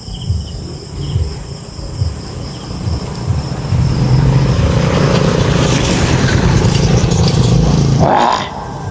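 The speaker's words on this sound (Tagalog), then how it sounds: "Napakaraming motor na dumadaan." Motorcycle engines rise and roar past at night over constant loud cricket chirping, the engine noise swelling midway and cutting off near the end.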